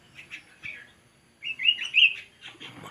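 Gelatik batu birds chirp in a garden, giving short, high, twittering calls in scattered bursts, with a louder cluster in the middle; the birds sound fairly close over a quiet background.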